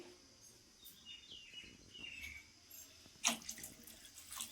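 Tap water runs into a pot while chicken curry is cooked in a home kitchen, a soft steady trickle with a brief louder splash near the end and faint bird chirps in the background.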